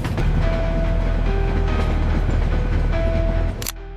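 A train rolls along the rails in a 1946 Kolkata setting, a steady low rumble with rhythmic clatter holding close and loud for several seconds before cutting off abruptly near the end.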